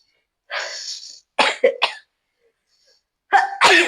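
Dust raised while cleaning a house sets off a sneezing fit: several sharp, explosive bursts separated by short silences, close and loud, with no other sound around them.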